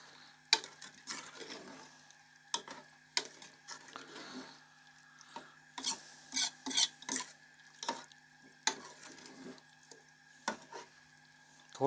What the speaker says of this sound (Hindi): अच्छे से इसको मिक्स करना है यहाँ पे।